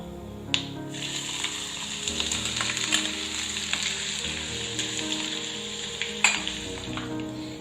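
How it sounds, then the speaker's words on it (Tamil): Chopped ginger, pepper and cumin fry in ghee in a pan for sweet pongal, giving a steady close sizzle with a few sharp pops and stirring clinks. "இஞ்சி ஓரளவுக்கு நல்லா ஃப்ரை ஆனதும்"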